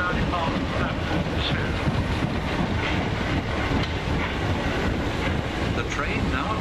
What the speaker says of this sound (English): This service is now departing platform